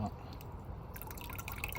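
Water trickles slowly into a scaled-down aquifer model at a low flow rate, heard as a faint, steady drip and light gurgle close by.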